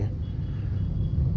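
A car rolls through an intersection during a driving lesson, a low steady engine and road rumble heard from inside, with no clear talk over it.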